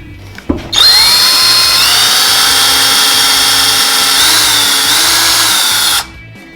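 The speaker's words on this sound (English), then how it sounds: "we got the support screwed in and got a couple brad nails in there" A power drill drives screws into a wooden pantry shelf support: a loud, close, continuous high whine that runs about five seconds after a brief knock, then stops abruptly.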